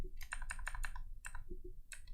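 A computer keyboard is typed on in short bursts of crisp clicking keystrokes, a quick run of presses followed by a pause and a few more taps, close and clear at low overall volume.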